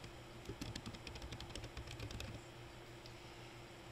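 Quiet, quick keystrokes tapped on a computer keyboard in irregular bursts, then a pause with a few light taps near the end.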